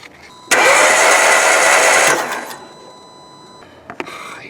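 Renault Megane MK3 engine turned over on the starter with the spark plugs removed, a loud steady whirring burst of about one and a half seconds that cuts off and fades, followed by quieter mechanical clicks.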